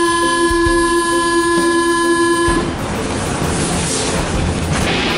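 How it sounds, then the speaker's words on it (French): A Paris-style metro train rolls along, with a loud steady tonal whine and hum from the moving carriage at first, then giving way to a broad rumbling rush of wheels and motion, close and continuous with no talking. "C'est ces moments où vous essayez de marcher quand le métro roule."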